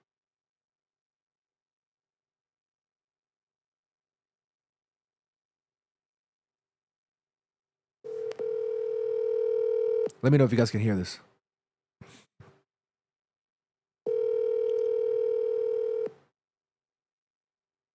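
An outgoing phone call rings out: two long, steady ringback tones separated by a pause, with a person speaking briefly between them.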